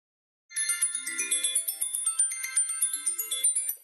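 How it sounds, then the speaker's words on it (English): A timer alarm plays a bright, repeating electronic melody alone, a steady pulsing run of chiming notes that starts suddenly after a moment of silence. "And when you hear my timer go off"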